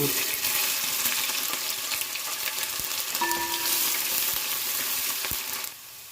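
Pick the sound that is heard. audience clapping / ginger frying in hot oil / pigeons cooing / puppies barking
ginger frying in hot oil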